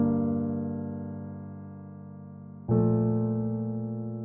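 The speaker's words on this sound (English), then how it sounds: "So without any effects and processing," Unprocessed VST piano with no effects playing a chord progression, a sustained chord slowly decaying, then a fresh chord struck and ringing, clean and alone.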